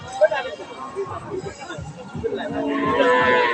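A cow moos among the livestock at Badarganj cattle market in Rangpur. Its low calls rise over a busy market scene where people talk nearby and crowd chatter continues throughout.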